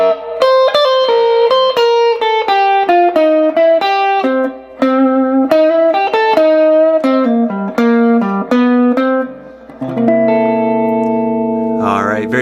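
Electric guitar plays jump blues licks with effects and reverb, a lively run of single-note lines and quick bends with short pauses, ending on a sustained chord, loud and close.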